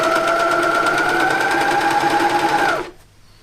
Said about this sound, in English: So the first thing is to sew these side pieces in the front.